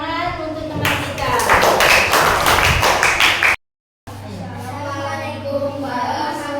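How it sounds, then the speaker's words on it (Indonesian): A classroom of students claps for a classmate, a burst of many hands lasting a few seconds, followed by a brief gap and then children's voices chattering nearby. "beri tepuk tangan untuk teman kita"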